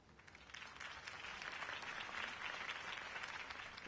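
Crowd applause rises and swells for a campaign speech in the video game Batman Telltale, a dense, steady wash of many hands clapping at moderate distance that fills the whole stretch without any speaking voice.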